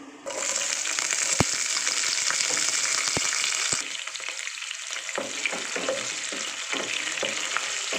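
Loud, steady sizzling of green chilies and curry leaves added to tempering spices in hot oil, with a few sharp clinks of a spoon; the hiss eases slightly partway through.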